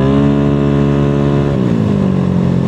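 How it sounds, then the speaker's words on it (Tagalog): A Yamaha Aerox 232cc scooter engine runs at partial throttle with a loud, close, steady buzzing drone whose pitch drops and roughens halfway through. "kung pinakikinggan nyo yung makina ko,"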